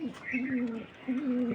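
A male Kaldum pigeon coos close by, giving two rolling, low throaty coos in succession with a brief pause between them.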